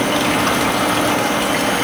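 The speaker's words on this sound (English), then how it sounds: "You see water coming out," Water draining from a heavy-duty screw press that is dewatering fabric fiber, heard as a loud, continuous rushing gush mixed with machine hum, steady and unbroken.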